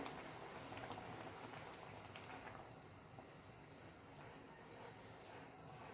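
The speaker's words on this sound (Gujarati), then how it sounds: "બસ થોડી વાર આને ટચ નહીં કરવાનું એમ જ ઉકળવા દેવાનું" Gathiya simmering and boiling in a pot of Kathiyawadi gathiya curry, a steady bubbling and popping wash that continues on its own throughout without any voices.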